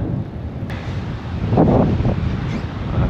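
Wind buffets the microphone in low, rumbling gusts that swell louder toward the middle, with a brief faint click early on.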